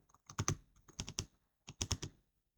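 Typing a chart title in Excel on a computer keyboard: quiet, close clusters of quick key clicks in three short bursts separated by brief pauses.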